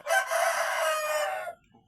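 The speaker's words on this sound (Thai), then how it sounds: "ไก่ร้องจัง" A rooster crows once, loud and close, a single sustained call of about a second and a half that ends abruptly into quiet.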